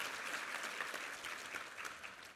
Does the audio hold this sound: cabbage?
no